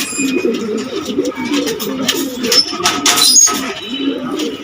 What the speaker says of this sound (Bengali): যে কবুতরটা ভাই দেখাইলো আমি ওর বোনরে দেখাই